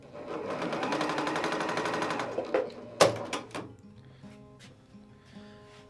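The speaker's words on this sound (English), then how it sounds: "I'm gonna keep just sewing, making a little strip here." A sewing machine stitches scrap fabric strips for a fabric basket, its rapid needle buzz running steadily and close for about two seconds before breaking into a few short clattering bursts and knocks.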